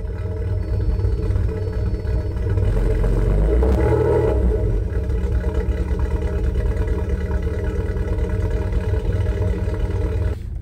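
Alfa Romeo GT with the 3.2-litre Busso V6 pulling away on a road test, a steady loud engine rumble with a brief swell of revving around the middle, continuous throughout with no talk.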